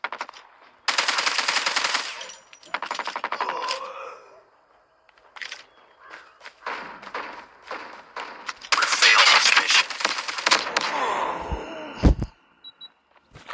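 Automatic gunfire from Call of Duty Mobile rattles in several long bursts and shorter volleys separated by brief quiet gaps, loud and close with no speech.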